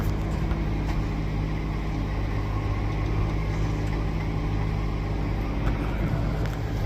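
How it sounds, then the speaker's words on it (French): A tractor running a verge flail mower in a field being prepared for rapeseed, giving a steady, loud, continuous engine drone and broadband mechanical roar with no pauses throughout. "Broyeur d'accotement dans la parcelle"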